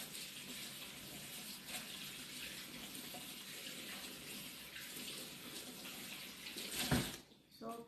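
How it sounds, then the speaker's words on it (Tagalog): Hands washed under a running kitchen tap, a steady close gush of water lasting several seconds, then a brief clunk as the flow is shut off. "Hugasan ko naman kamay ko, pero mas maigi pa yung hugasan ulit."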